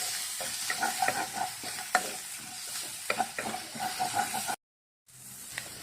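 Ingredients for Kerala fish molee frying in a pan until golden, a soft crackling sizzle with stirring scrapes throughout and a brief dropout near the end.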